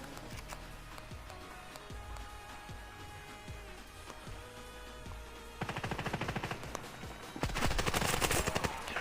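Rapid gunfire in an online shooter game, armless crew versus viewers, with dense bursts of shots that grow louder and more continuous toward the end, over steady game ambience.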